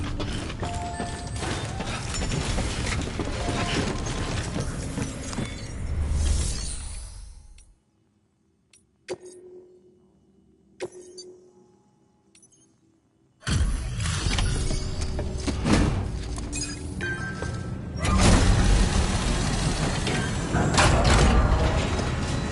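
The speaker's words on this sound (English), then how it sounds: "Decontaminating suit." Suit decontamination machinery in Death Stranding rumbles and hisses loudly, then cuts to near silence broken by a few sharp mechanical clicks, before the heavy churning noise returns and swells again.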